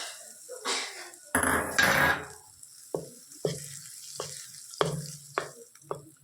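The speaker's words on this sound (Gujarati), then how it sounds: "આપણી રાઈ તતરી ગઈ છે, એના થોડી હિંગ નાખીશું અને વઘારના અંદર આપણે નાખી દઈશું." Mustard seeds spluttering in hot oil for a tempering with turmeric and asafoetida, a soft sizzle broken by sharp irregular pops and light clinks of a pan.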